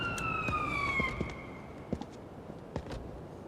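A faint ambulance siren in the paramedic game Ambulance Life winds down and fades out over about a second and a half, followed by scattered soft clicks and knocks.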